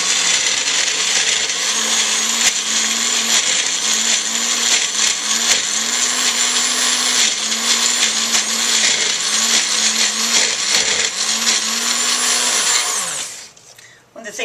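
Magic Bullet blender whirring through a batch of raw herbal hummus, a loud continuous motor drone with slight pitch wobbles as the thick mixture churns, running steadily before cutting off near the end.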